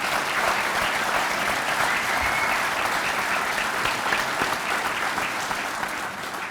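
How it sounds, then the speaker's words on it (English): Audience at a Virginia Beach police academy graduation ceremony giving a loud, sustained round of applause that fills the hall for over six seconds before easing slightly at the end. "So please join me in a round of applause for their dedication and service to our team and our great nation."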